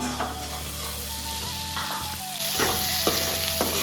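Potatoes drop into a hot pan and crackle into a bright, close sizzle that grows louder and stays steady, with a few clinks of utensils.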